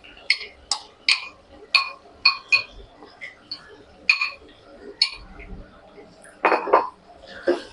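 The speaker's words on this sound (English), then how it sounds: "Just give it a stir." A metal spoon stirs sambar masala and vegetables in a pot for Udupi sambar, making a series of sharp, ringing clinks against the metal at an uneven rhythm, close and fairly loud.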